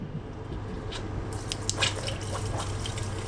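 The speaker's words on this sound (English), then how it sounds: "There's some water coming out of the lines, which is good." A steady, faint trickle of water from RV water lines with soft dripping over a constant low mechanical hum.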